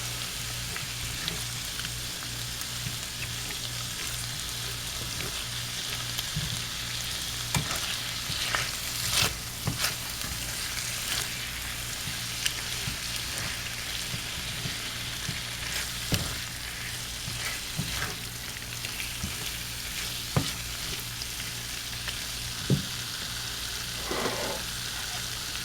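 Chicken with soy sauce frying in a pan: a continuous dense sizzle and crackle, close and fairly loud, with occasional light taps and scrapes of stirring throughout.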